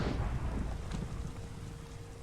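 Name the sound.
rain and thunder in video game Minecraft FTB Skies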